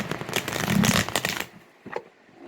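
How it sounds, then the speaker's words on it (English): A deck of playing cards is shuffled up close, a dense papery riffle and flutter for about a second and a half, then a few softer taps as the cards settle in a quiet room. "I'm going to just shuffle this again"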